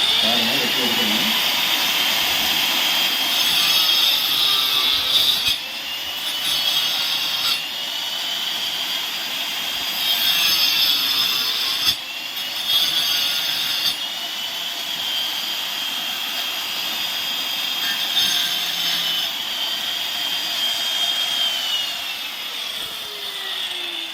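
Power cutting machine cutting a wiring groove into a house wall, a loud, high whining grind that runs continuously and dips and surges as the blade bites, with someone talking over it.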